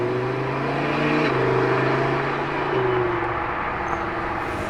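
Matte purple Lamborghini Evo Spider rolling out through opening gates, a close steady engine drone with a low throbbing tone shifting pitch as it moves off.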